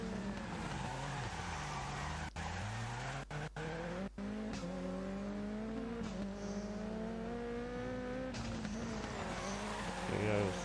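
A rallycross car slides around a corner with a long, rising tire squeal over a steady engine drone, loud and close, while a commentator's voice talks over it.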